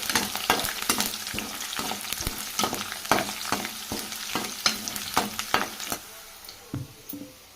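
Onions and sesame seeds frying in a pan, a loud close sizzle broken by quick, repeated spatula scrapes and taps, with the stirring thinning out over the last second or two.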